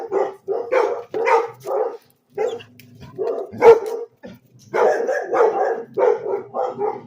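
Excitable dogs bark repeatedly nearby, rapid clusters of barks separated by brief pauses, with a low thump midway through.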